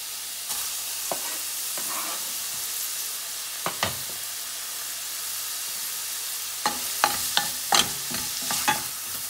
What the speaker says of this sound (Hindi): बारीक चॉप करून हांव तेल पियाव घालतां